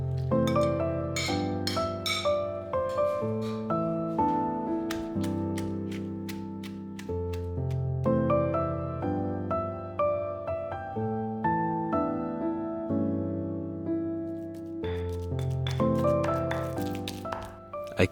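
Rehydrated dried chilies being strained and pounded for Panang curry paste, a series of close, repeated thuds and squishy knocks in an uneven rhythm, with scattered clinks and no talking.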